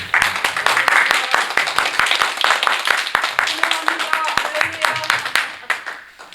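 A church congregation at a Sunday worship service gives welcoming applause, distinct individual claps audible within the rhythmic clapping from a moderate crowd while someone speaks over it.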